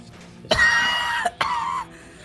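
A man in a GTA 5 roleplay coughs twice, two rough, close, hacking bursts with a brief pause between them, heard alone without other talk.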